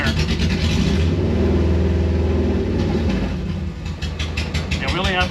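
The Subaru engine in a 1974 VW Bus hunts for idle, a loud, close, uneven drone that surges and sags, its pitch wavering over several seconds. A voice speaks briefly over the engine.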